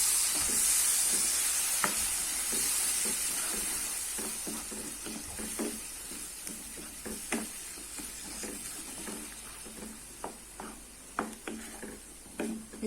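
Ground tomato paste, from three medium tomatoes, sizzles and spits in oil in a pan for garlic tomato rice, giving a steady close frying hiss broken by sharp pops and occasional stirring scrapes.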